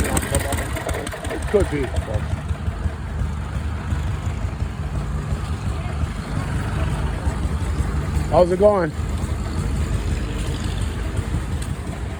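An old hit-and-miss engine runs with a steady low rumble, fairly close and continuous, while people talk over it throughout.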